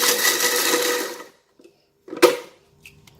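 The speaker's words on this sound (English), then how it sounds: "Blend the dry shrimp." A kitchen blender grinds dried shrimp in a loud burst lasting just over a second, then cuts out, followed by a few scattered clatters and bumps.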